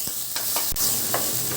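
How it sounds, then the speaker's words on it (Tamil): Ginger and onion sautéing in a pan for mutton thonjal kulambu, with a steady low sizzle broken by a few sharp scraping stirs of a spoon against the pan, close and alone. "இப்போது இஞ்சியும் வெங்காயமும் ஒன்று சேர நல்லா வதங்கி வரப்போம்."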